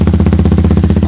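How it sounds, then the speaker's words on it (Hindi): A TVS Ronin 225 motorcycle with a full-system aftermarket exhaust idles close by, giving a steady, even thumping pulse at a fast regular beat. "अब मैं सुनाता हूँ इसकी साउंड आपको आइडल पर।"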